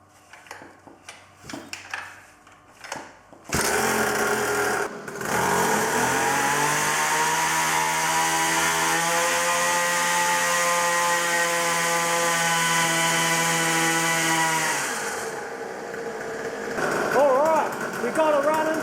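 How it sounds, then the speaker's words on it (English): A small off-road pocket bike engine, its carburetor freshly cleaned after two years of sitting, is pull-started with a few sputtering tries, then catches and runs at a steady, loud buzzing idle before cutting off. "We got it running, that's good news."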